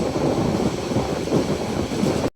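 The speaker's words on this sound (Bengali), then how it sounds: "সামনে যে ট্রেনটি দেখতে পাচ্ছেন এটা হচ্ছে চট্টগ্রাম অভিমুখী নাসিরাবাদ এক্সপ্রেস" Nasirabad Express bound for Chattogram, heard from another train near Shashidal: a steady, loud, dense low rumble of rolling wagons that runs unbroken and cuts off abruptly at the end, with no voices.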